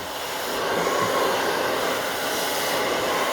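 A hair dryer blowing on hair at the roots gives a loud, steady rushing whoosh that holds constant throughout, with no speech.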